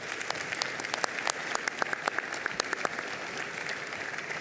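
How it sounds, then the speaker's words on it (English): An audience at an economic forum applauds steadily, many hands clapping in a dense, even patter with sharp individual claps standing out, moderately close and without talk, holding level for several seconds. "I ask a warm applause for this"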